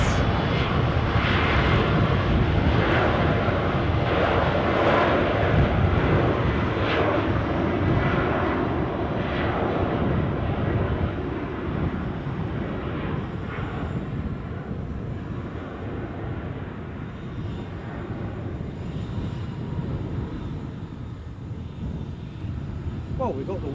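An easyJet airliner takes off at Edinburgh Airport, its jet engines giving a loud, sustained roar that holds steady and then eases slightly as the plane climbs away.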